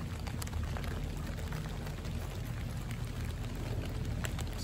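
Rain falls on a garden as a dense, steady patter of drops, soft and continuous throughout, with no voices.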